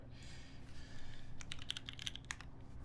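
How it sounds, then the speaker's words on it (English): Keys clack briskly on a Keebscape Solaris mechanical keyboard in a quick, uneven burst of crisp, close strokes. A soft background hum sits beneath the typing. "We're just about to get into some typing here."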